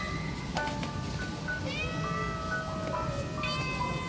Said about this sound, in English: This is the street cats here in my hood.